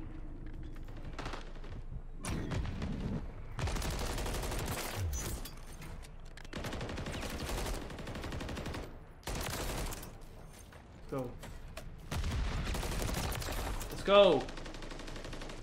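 Bursts of gunfire from the Call of Duty video game come in several dense volleys across the span, loud and sustained, with someone talking excitedly over and between them.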